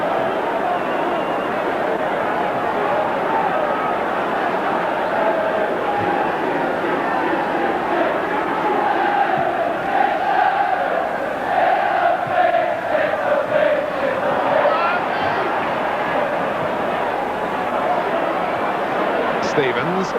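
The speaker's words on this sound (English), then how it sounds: "More and more frantic, the roars from the crowd calling for a penalty" Football crowd at Everton versus Chelsea in March 1986 roaring for a penalty, a broad, swelling roar from a large stadium crowd under continuous commentary.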